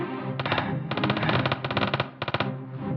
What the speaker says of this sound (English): The gunfire deafened his focus